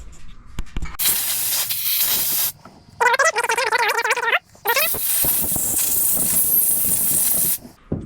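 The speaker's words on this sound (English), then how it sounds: "I'll take my air compressor and I'll blow through all that stuff again" Air compressor blowing through a disassembled Simpson power washer carburetor: loud bursts of hissing air separated by short pauses, with a brief whistling tone partway through.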